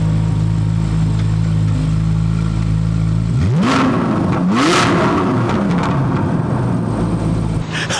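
A Hyundai Elantra N or Subaru WRX with stock exhaust idles steadily, then revs sharply twice with rising, roaring bursts before settling back to a rumbling idle, loud and close.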